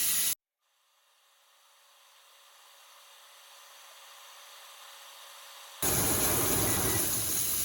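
A ribeye steak sears in a cast iron skillet with a loud, bright sizzle that cuts out abruptly to near silence, then bursts back in strongly for the final seconds.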